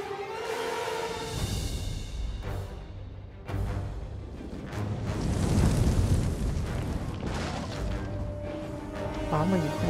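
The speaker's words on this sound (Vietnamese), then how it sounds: "Pháo mình cũng bắn tới mới đau chứ." Artillery cannon fire booms during a battle in Total War Rome 2, with heavy blasts and crashing impacts that swell into a rumbling roar amid ongoing battle noise.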